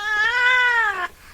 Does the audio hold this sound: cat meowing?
yes